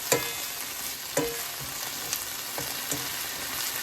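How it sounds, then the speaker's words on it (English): Garlic fries in a non-stick electric skillet, giving a continuous close sizzle broken by a few sharp utensil taps and scrapes, with no talking. "this is my electric skillet, y'all. I'm just cooking on it"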